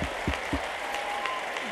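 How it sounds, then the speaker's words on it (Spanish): An audience at an awards gala claps steadily for a short stretch, a dense even wash of applause with a few faint voices and a brief whistle-like tone over it. "¡Bravo! ¡Ese aplauso!"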